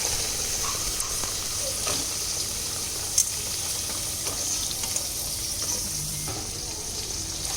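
Chopped onions fry in a pan with urad dal for a flour-based curry, giving a steady, even sizzle that runs throughout with a few small clicks of stirring.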